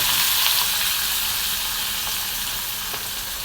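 Mustard seeds and cumin sizzling in hot oil, a dense, bright, continuous frying hiss with faint crackles, close and steady throughout.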